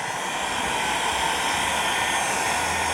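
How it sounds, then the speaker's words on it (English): A heat gun blows hot air over alcohol ink on black synthetic yupo paper, a loud, steady, unbroken whooshing roar held close throughout. "Get the heat gun before we lose any more."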